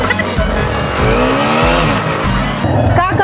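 A car pulling away and picking up speed, its engine revving up in rising tones with a brief squeal of tyres, loud and close by.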